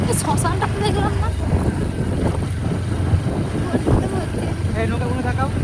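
A motorboat engine drones steadily on the Ganges river, heard up close with buffeting wind noise, while people talk over it throughout.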